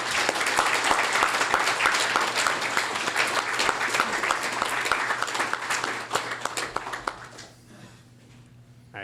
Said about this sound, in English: I would like to give Matt a round of applause if he will join with me